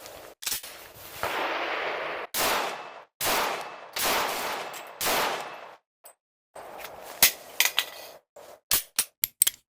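A Glock 22 pistol fires .40 Smith & Wesson rounds at a shooting range, loud sharp reports coming singly and in quick strings, separated by brief silences, ending in a rapid run of close shots.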